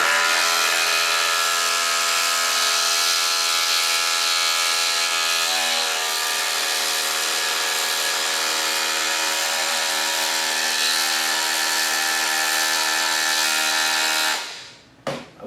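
Milwaukee M12 Fuel Surge hydraulic impact driver driving a fastener, a loud, continuous high-pitched whine and hum held for about fourteen seconds, dipping slightly in pitch midway, then cutting off sharply.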